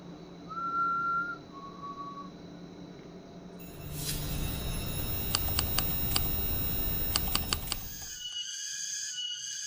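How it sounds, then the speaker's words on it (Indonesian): A person whistles two short notes, then a steady mechanical hum takes over with sharp high clicks and tones; no speech. "kalian dengar enggak, seperti ada orang yang bersiul teman-teman"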